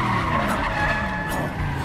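A car in the video game Resident Evil 7 drives and skids, its tires squealing loudly and continuously for about two seconds over steady engine noise, with no talking.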